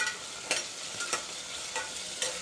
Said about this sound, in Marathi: आपल्याला हे सर्व साहित्य छान असं परतून घ्यायचं आहे